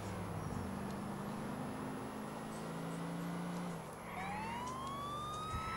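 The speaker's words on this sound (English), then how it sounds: "I'm in a police car at the moment." A police car siren sounds in GTA IV, wailing and rising over a steady engine drone, fairly faint and continuous with no talking.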